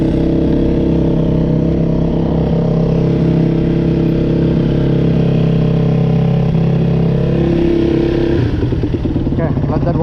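Yamaha YZ450F or WR250F dirt bike idling in snow while it warms up, giving a loud, steady close-up engine drone that roughens into a short clattering rev near the end.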